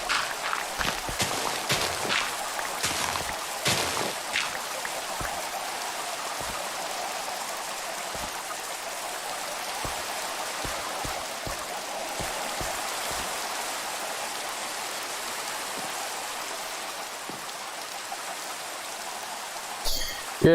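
Minecraft rain falls steadily in vanilla survival, a continuous hiss of pattering drops. Scattered soft thumps and clicks run through it early on, and no one speaks.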